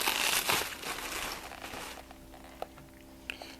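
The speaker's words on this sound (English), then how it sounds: "you'll need to remove your protective packaging from your digital and analog display" Protective plastic packaging film is peeled off a digital display, a close crinkling and tearing rustle that fades after two seconds, followed by a few small clicks.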